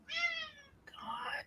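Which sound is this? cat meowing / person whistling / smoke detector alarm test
cat meowing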